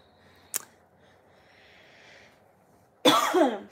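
A cough bursts out near the mic from someone who is a little sick, a short sharp hack early on and then a louder, rougher fit of coughing at the end, over a quiet room with no talk.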